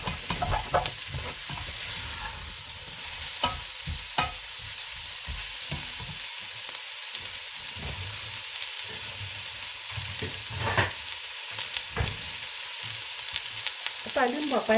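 Chickpea curry ingredients sizzle steadily in hot oil in a pan, with intermittent scraping and clacking as they are stirred throughout; no voices.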